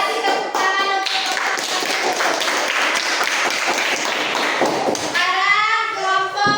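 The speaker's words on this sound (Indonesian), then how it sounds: "Kasih tepuk tangan untuk" A burst of applause from a group of elementary school children in a classroom, dense clapping that fades, followed by a young voice speaking.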